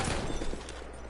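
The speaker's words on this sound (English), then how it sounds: "Somebody's shooting me through a wall." Brief burst of rapid gunfire in the video game Battlefield 1, a dense crackling volley that fades slightly over about a second, with no talk.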